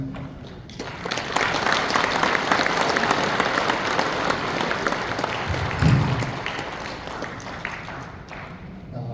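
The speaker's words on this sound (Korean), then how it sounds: "최윤식 교수님을 모실 때 큰 박수 부탁드립니다." A lecture audience gives sustained applause to welcome Professor Choi Yoon-sik at a special talk on the Korean church. The clapping is dense and steady for several seconds, then gradually thins out toward the end.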